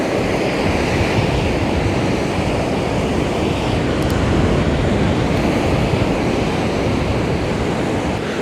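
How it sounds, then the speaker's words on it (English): A constant heavy roar of sea waves breaks on Benidorm beach in winter, loud and close, with wind buffeting the microphone throughout and no voices. "the waves are coming pretty close right now."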